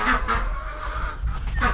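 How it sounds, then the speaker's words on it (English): Full-grown ducks in a backyard flock quacking loudly and repeatedly nearby, a few harsh honking calls bunched at the start and end with softer squawks between. "We still have our ducks, as you can hear."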